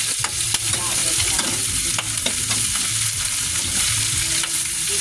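Steady, loud sizzling of pork frying in a pan for Filipino pork humba, with scraping and stirring clatter from a utensil running throughout.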